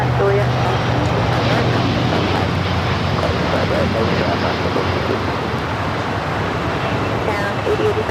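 A LATAM Boeing 787-9 Dreamliner takes off from the south side runway 25 right at LAX, a loud, sustained broadband jet roar filling the whole stretch, with voices talking over it.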